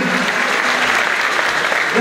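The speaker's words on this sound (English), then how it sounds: "I think we need to have a huge round of applause for all of our dancers." Sustained applause from a large audience cheering dancers at a Dancing with the Stars event, steady and loud throughout with dense clapping filling the space.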